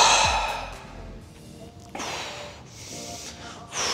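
A person exhales hard while rising during a bodyweight glute exercise, with a close, breathy sigh early on followed by quieter breathing and light movement.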